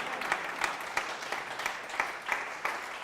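A church congregation applauds steadily with scattered cheers, a dense continuous wash of clapping at moderate loudness with a few sharper peaks throughout.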